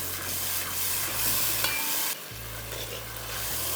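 Dal makhani sizzles steadily in a pan while a spoon stirs through it, a continuous close frying hiss with soft scraping and no voices.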